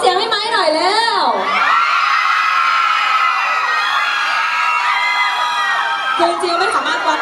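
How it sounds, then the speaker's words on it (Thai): A crowd at a sneakers fan event cheers and shrieks loudly, with high-pitched whoops and shouting rising and falling continuously over several seconds, close and dense. "ขอเสียงให้ไม้หน่อยแล้ว"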